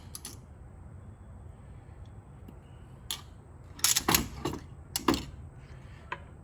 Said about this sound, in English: You just drop your bolts down, drop it down.